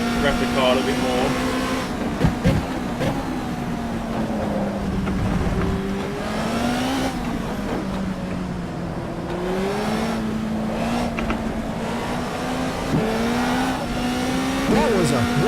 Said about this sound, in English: Rev the car a little bit more.